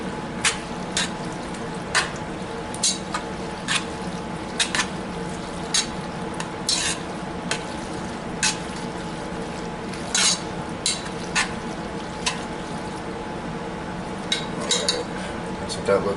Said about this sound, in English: Give that a good mixing.